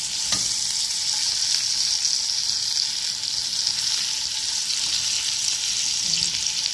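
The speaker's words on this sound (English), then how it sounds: "So we're gonna fry this for like 4 minutes before we can eat it" Salmon frying in garlic butter in a pan, a steady, even, close sizzle that holds at the same loudness throughout, with no talk over it.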